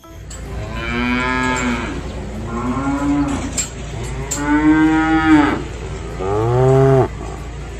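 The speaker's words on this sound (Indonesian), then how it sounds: "Wow, ini ada sapi." A cow moos four times in a row, long drawn-out lowing calls with short pauses between them, close and loud with no talking.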